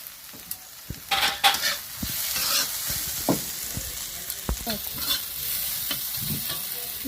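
Red amaranth greens being stirred as they fry in a pan with ground cumin and coriander, giving steady sizzling under repeated scraping strokes of the spoon, close by.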